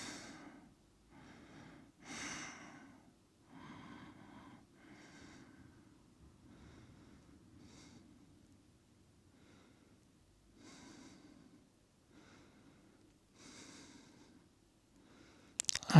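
Slow, quiet breaths come in and out during a spine-waking yoga exercise. The soft, airy inhales and exhales repeat at an unhurried pace with nasal snorts and sighs between them.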